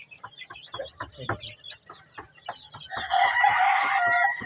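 Hens cluck in quick, uneven bursts close by, then a rooster crows loudly over them for a couple of seconds.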